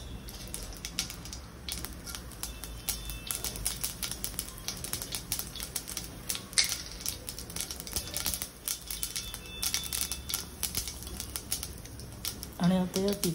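Mustard seeds, asafoetida and curry leaves hitting hot oil in a pan, a dense, continuous spitting crackle of rapid pops throughout, fairly close and moderately loud.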